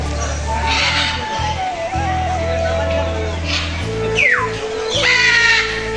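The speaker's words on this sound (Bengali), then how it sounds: "পাখিগুলো উড়াউড়ি করতেছে না, রিল্যাক্সে বসে আছে।" Crows caw and squawk among other birds at a large safari park, several harsh calls rising over a steady background hum, with people talking nearby.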